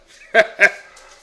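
A big dog gives two quick, close, loud barks in succession, followed by a faint trailing whimper.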